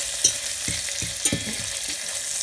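Food fries in a pan until golden brown for pasta amatriciana, giving a steady close sizzle broken by a few soft stirring clacks and scrapes, with no voices.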